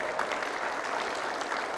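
An audience giving a round of applause at a leadership recognition event, a dense, steady wash of clapping hands throughout.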